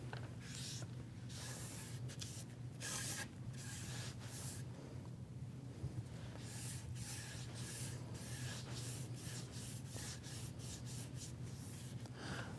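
A steady, close hiss of finish being sprayed across a plywood shelf workpiece, continuous for the whole stretch, with brief pulses and gaps as the spray passes over the surface.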